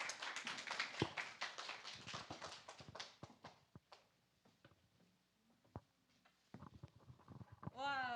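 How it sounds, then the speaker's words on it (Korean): Scattered hand claps ring out in a small room as a speaker is welcomed at a children's church gathering, sharp individual claps that thin out and fade, with voices talking near the end. "우리 크게 박수 한번 쳐볼까요?"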